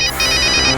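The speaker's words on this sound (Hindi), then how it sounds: "किसी का मोबाइल फोन है।" A cartoon mobile phone rings with a bright, repeating electronic ringtone, loud and close, with no voices over it.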